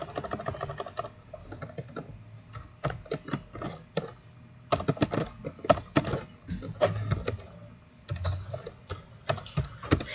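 Fingers type on a computer keyboard in bursts of quick, clacking keystrokes with short pauses between runs, close and fairly clear, with no voices.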